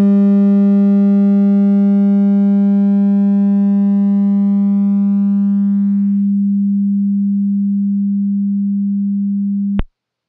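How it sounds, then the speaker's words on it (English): A steady low pure tone from a damped oscillator with a quality factor of about 6,000 sounds alone for about ten seconds, fading very slowly and then cutting off abruptly. "Very long decay, then we can barely hear the audio signal die out."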